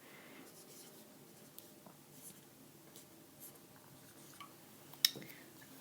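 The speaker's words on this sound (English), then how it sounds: "I'm also going to write in a different color" A marker writes numbers on a chart, faint scratchy strokes and light squeaks in short irregular bursts, with one sharper tap near the end, quiet and close.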